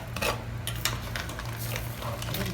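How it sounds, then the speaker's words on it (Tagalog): A utensil scrapes and knocks against a pan while seafood in tomato ketchup sauce is stirred, close metallic clinks over a steady low hum from the stove. "Okay, mix our seafoods."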